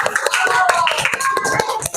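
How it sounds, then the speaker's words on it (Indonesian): A group in a fourth-grade classroom claps hands in a brief, lively burst of applause for a student group, dense and fairly close, with some voices mixed in. "Tepuk tangan untuk kelompok auditori."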